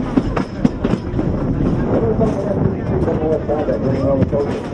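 The 1942 Dollywood train 192 rolls along its rails with a continuous rumbling clatter and occasional knocks, wind buffeting the microphone and a voice talking over the ride.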